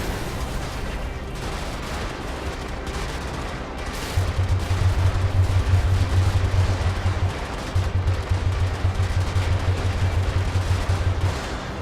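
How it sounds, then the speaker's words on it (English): Building demolished in the video game Brigador: a sustained barrage of booming blasts and crackling fire, loud and dense, with a heavy low rumble that pulses steadily for several seconds, pauses briefly, then resumes. "we don't need this building, so let's blow it up"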